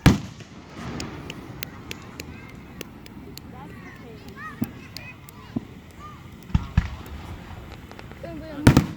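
Consumer fireworks go off at a backyard display in Mexico, Missouri: scattered sharp pops and bangs, some near and some farther off, with people talking and calling out between them.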